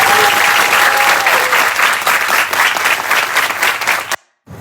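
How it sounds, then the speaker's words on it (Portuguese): A studio audience bursts into loud, sustained applause for two guests on a Brazilian show, dense clapping that fills the room before cutting off abruptly near the end. "Um salve de palmas para esses dois aqui."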